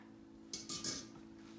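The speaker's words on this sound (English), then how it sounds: "So I'm putting the sea moss into the pot." Sea moss dropped into a pot of water gives two or three brief clinking, splashy bursts close by, set over a steady low kitchen hum.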